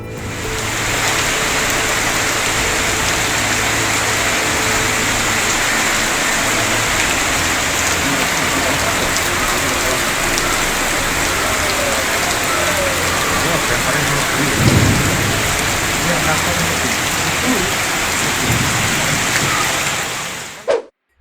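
Heavy rain pours steadily during a violent windstorm over a traditional market, with a dull rumble of thunder partway through. The downpour is loud, dense and unbroken, close to the microphone.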